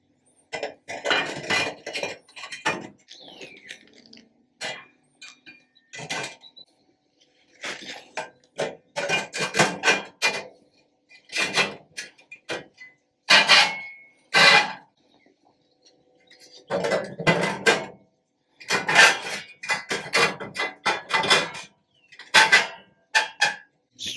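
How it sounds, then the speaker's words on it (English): Metal heat shields and cooking grates being laid into a restored grill, with a long series of irregular clanks, scrapes and rattles, close and loud, separated by short pauses. "All that's left is to lay these heat shields over and then put the grates on,"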